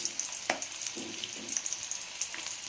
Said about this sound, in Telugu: కొంచెం కలర్ మారే వరకు ఫ్రై చేసుకోవాలి.